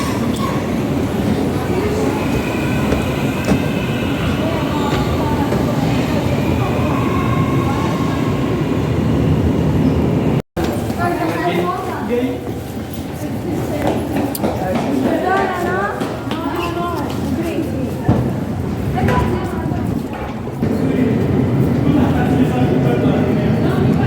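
A train rumbles at a busy station, with a steady low roar and some squeals and clatter, while people talk nearby and crowd noise mixes in, briefly cutting out partway through.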